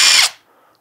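PROFIPOWER cordless screwdriver whirs loudly up close in a short high-pitched burst, then spins down quickly and goes quiet.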